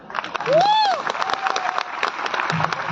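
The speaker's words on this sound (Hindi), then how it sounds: "तालियां बजा दें।" Applause from an audience at a company's eighth-anniversary event, a steady clatter of clapping lasting about three seconds, with a rising-and-falling whistle-like tone early on and a voice speaking over it.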